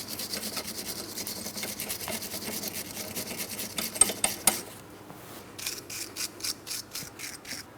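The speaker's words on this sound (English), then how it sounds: "You can use your wire brush for those as necessary." A wire brush scrubbing the wheel hub mounting bolts on a 2003-2007 Cadillac CTS during front wheel bearing replacement, quick close rhythmic bristle strokes, briefly pausing and then resuming in short bursts.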